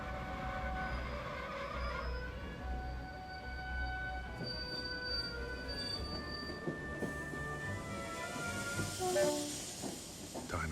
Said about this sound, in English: We arrive, the train comes to a stop.